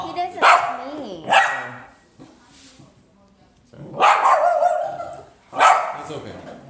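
A dog barks sharply at a visitor in a few loud, close bursts with short growly yips between them, mixed with people talking nearby.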